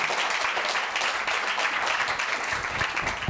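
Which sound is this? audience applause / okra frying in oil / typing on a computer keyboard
audience applause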